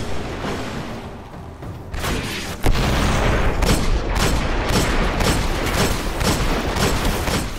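Gunfire and grenade blasts from the video game Destiny during a Devils' Lair strike: rapid bursts of shots and booming impacts, dense and continuous, with a sharp heavy blast partway through and steady firing after.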